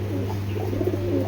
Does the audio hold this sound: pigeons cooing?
yes